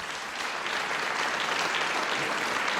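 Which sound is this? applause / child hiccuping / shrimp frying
applause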